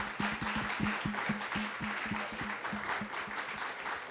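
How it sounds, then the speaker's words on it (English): A seminar audience applauds panelists at the start of a discussion: a crowd's continuous clapping with a low, regular thumping pulse running through it, moderate and sustained. "Give an applause round for these amazing women"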